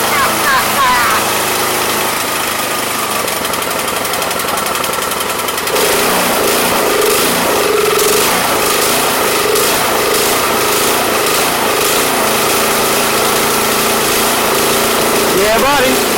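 A small pull-start gasoline engine with the choke on, from yard equipment such as a blower, hedge trimmer or snow blower, sputtering to life and then running loud and close with a steady buzzing drone; voices are heard over it.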